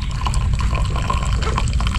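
Water running and splashing close by, a continuous liquid gurgle with small drips, heard on its own for about two seconds.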